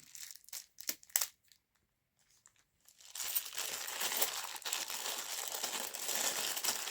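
A bag of 50p coins is picked up and handled. A few sharp crinkles come first, then a short quiet gap, then steady, close plastic rustling and crackling.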